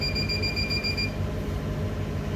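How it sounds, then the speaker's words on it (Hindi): Startup beeps from a weighbridge load cell indicator, a steady high electronic tone held for about a second over a constant low hum, heard alone. "तो स्टार्ट करने के बाद कुछ इस तरह से ये बीप साउंड देगा यहाँ पे।"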